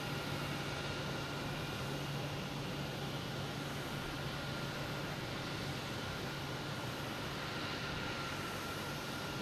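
An Iberia Airbus A321neo at Boston Logan Airport, its engines a steady distant broadband roar with a faint whine, continuous and fairly quiet, with no voices.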